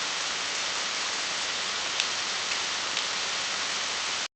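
Rain pouring over Jackson Square in New Orleans, a dense even hiss of falling water with a few faint drips standing out, continuous and close throughout.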